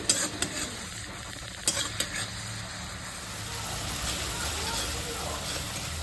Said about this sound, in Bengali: এবার ভালোভাবে কষিয়ে নিয়েছি 2-3 মিনিটের মতো।